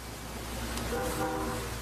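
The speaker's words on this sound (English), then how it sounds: "You can hear the whistles of the trains in the background." A distant train whistle sounds faintly over steady outdoor background noise on a golf course during a women's professional tournament, rising briefly in the middle before fading.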